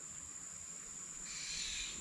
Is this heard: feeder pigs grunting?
no